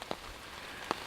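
Rain falling on an umbrella along a wooded hiking trail in Minnesota, with a steady soft patter and a couple of sharper, close drops striking the fabric.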